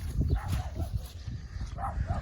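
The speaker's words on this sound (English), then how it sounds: "The dogs are barking at me like I'm an intruder." Dogs barking repeatedly outdoors at dawn in a windy, swampy garden, several sharp barks of moderate loudness over steady wind noise.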